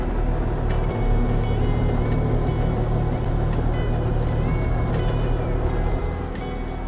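A Kubota KX-040 excavator drives across a grass lawn, a loud, steady diesel rumble with clanking tracks running continuously and close by.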